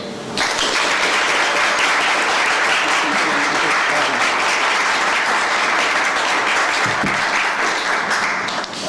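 An audience at a library talk welcomes author Richard Taylor with loud, sustained applause, dense steady clapping filling the room for several seconds before fading out.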